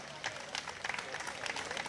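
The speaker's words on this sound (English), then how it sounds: "Give yourselves a round of applause to every senior and to every veteran in this city as well." Seniors and veterans at an annual senior picnic in Somerville applaud together, a steady wash of outdoor clapping with a few sharper nearby claps and murmured voices mixed in.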